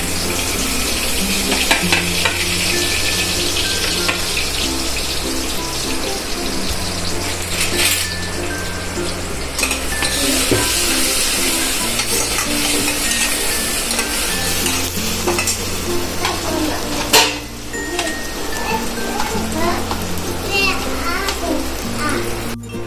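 Finely chopped onions fry in a pan with asafoetida and oil for a potato dal, a steady close sizzle stirred now and then, with background music and children's voices mixed in.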